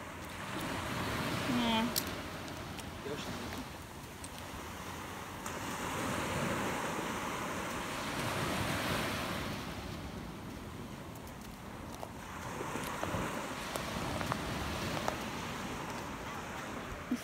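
Ocean surf rolls onto a shelling beach on Sanibel, with a steady wash of waves that swells and fades several times, under gusts of wind against the microphone and faint scattered talk.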